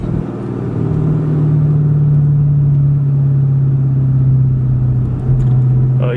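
A 2018 Dodge Demon with a transbrake pulls hard from inside the cabin, its engine a loud, steady, deep drone that holds through the run and then briefly dips as it shifts.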